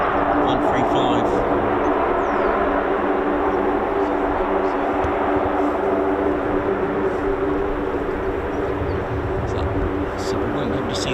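Lockheed MC-130J turboprop engines at an air base, taxiing and then taking off: a loud, steady, broadband drone with a sustained engine hum lasting throughout, with a person's voice faintly present.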